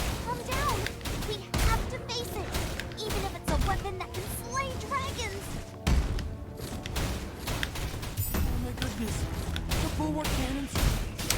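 Rapid volleys of gunfire and thumping blasts from auto-targeting turrets in the action RPG Torchlight Infinite, dense and continuous, mixed with game effects and music, loud throughout with no speech.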